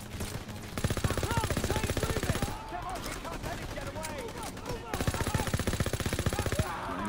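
Rapid machine-gun and rifle fire from a World War II first-person shooter, loud bursts of dense automatic shots separated by a brief lull, with a voice talking over the battle.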